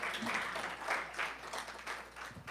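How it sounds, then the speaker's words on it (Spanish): A church congregation breaking into applause during a bilingual sermon, a short burst of many hands clapping at moderate distance, rising and falling over a couple of seconds. "Da un aplauso al Señor este día"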